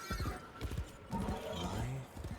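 A horse in the Warframe video game neighs loudly up close and its hooves clip-clop rhythmically on the ground.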